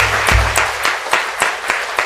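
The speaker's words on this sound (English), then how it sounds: "Why don't we give these folks on this panel applause?" Audience applause for a panel at a long afternoon cannabis summit, broadband clapping spread across the room with a few sharper hand claps standing out, steady and moderately loud throughout.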